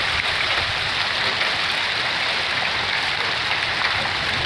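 Melting hail slush pouring out of a gutter during a spring hailstorm on the Rockies Front Range, a steady rushing wash like heavy rain, moderately loud and continuous.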